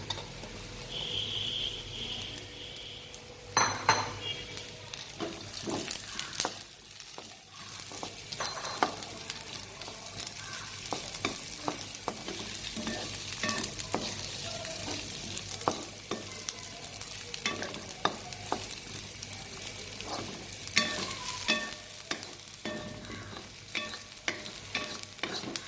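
Ginger, garlic and green chilies sizzle steadily in a hot pan for an Indian kurma, with repeated scraping stirs and clatters of a utensil throughout, no voices over the frying.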